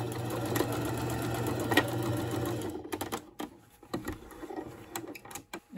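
Sewing machine stitching the sleeve placket of a dress shirt, a steady fast mechanical whir for about three seconds, then stopping, followed by short clicks and handling noises as the fabric is adjusted.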